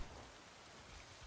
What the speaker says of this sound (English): Okay, it's still raining.